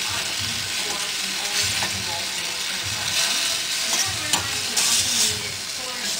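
A few pieces of honey mustard chicken sizzle loudly in a small pan, a steady close frying hiss with faint crackles and light stirring.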